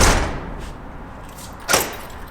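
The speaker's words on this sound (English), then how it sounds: "We pull the door down, we go," An RV storage door pulled down, giving a single loud rolling thud near the end after a soft opening rustle, heard close with no talking.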